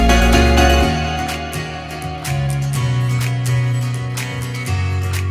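Strummed acoustic guitar, a Kontakt instrument, rings out in an arrangement, with a heavily filtered piano adding low end beneath; steady rhythmic strums with sustained low notes shifting between chords, no voices.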